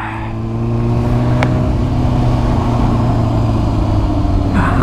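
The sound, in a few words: motorcycle exhaust rumble while riding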